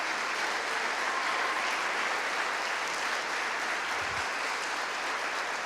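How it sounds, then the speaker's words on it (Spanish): A church congregation applauds in a dense, steady wash of clapping that holds at an even level throughout, with no pauses. "dale ese aplauso al Señor, dale"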